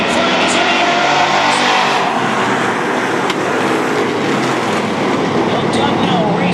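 Race cars roar around the oval at Beech Ridge Speedway, a loud, dense wall of engine noise that holds steady with passing surges, while a commentator talks over it.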